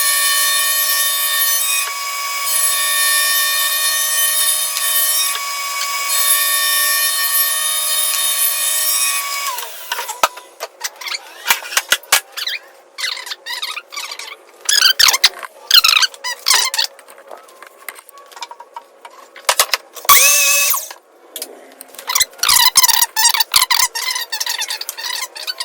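Maple strips being cut for a segmented vase, opening with a loud sustained whine of a power saw that winds down, then a series of separate sharp bursts of cutting and squeaky wood rubbing, with brief pauses between them.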